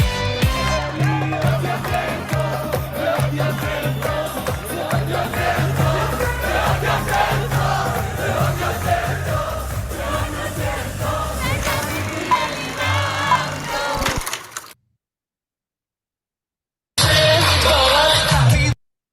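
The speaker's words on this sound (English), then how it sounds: "A whole secular crowd singing with so robustly" A large secular crowd sings loudly and robustly together in Hebrew, a dense, continuous wall of voices that cuts off abruptly into silence and then returns just as strongly for the final seconds.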